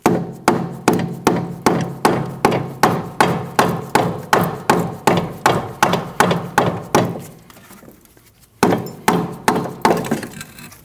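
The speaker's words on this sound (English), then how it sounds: "now you can just tap on your strut to remove it from your knuckle" Steady, rhythmic metallic hammer taps on the front strut of a 2003-2008 Subaru ring out about twice a second to free it from the steering knuckle. After a short pause the blows resume.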